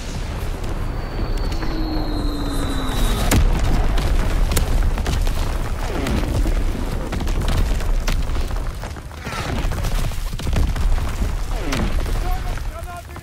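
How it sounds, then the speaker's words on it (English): Artillery strike explosions in the World War II shooter Call of Duty WW2, a series of deep booms and blasts over dense continuous battle noise, with radio-style voices speaking over the barrage. "Artillery ready for orders, awaiting coordinates. Firing for full effect."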